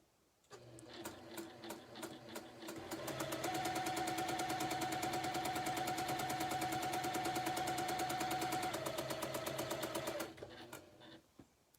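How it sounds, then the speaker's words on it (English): Domestic sewing machine stitching quilt triangles a quarter inch from a line, with chain-pieced leader scraps; the needle runs in bursts, then a long, steady, close mechanical whir before stopping. "We're going to go ahead and go over to the sewing machine and sew these."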